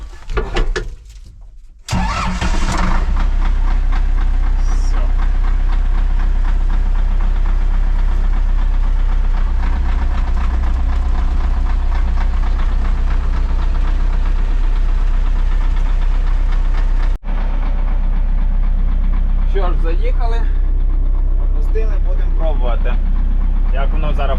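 An LTZ-60 tractor engine cranks and catches after a quiet start, then runs loud and steady with a heavy low knocking idle; it cuts out briefly near the end before resuming, with faint voices over the last seconds.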